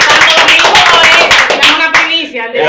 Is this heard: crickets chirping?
no